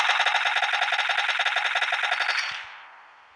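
Rapid automatic gunfire rattles in the video game PUBG, a dense, loud burst of shots that cuts off abruptly and leaves a brief fading tail.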